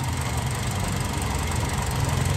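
A car engine idles steadily up close after repair of a leaking fuel injector that had flooded it. It gives a continuous, even low rumble with no break.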